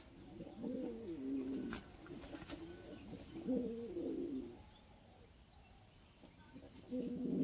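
A female fancy pigeon coos in repeated low throaty phrases, close by, with short pauses between calls against a faint background hum.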